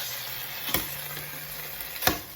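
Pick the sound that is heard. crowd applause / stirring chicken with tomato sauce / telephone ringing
stirring chicken with tomato sauce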